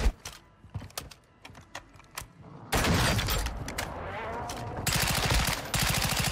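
Fennec submachine gun fire in a Call of Duty match, heard as loud rapid bursts of automatic shots with sharp clicks before them, close and dense, with no talk over it.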